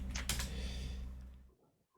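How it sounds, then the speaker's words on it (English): Quick clattering keystrokes on a computer keyboard during an online tabletop role-playing game session, a short busy burst of typing that trails off into near silence after about a second and a half. "Scary typing that does not bode well."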